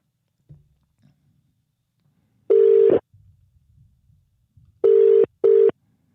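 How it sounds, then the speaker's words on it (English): Telephone call tones on a line, one long steady beep followed by two shorter beeps after a pause, clear and close, with faint rustling in between. "Let me give him a call and see how we get on."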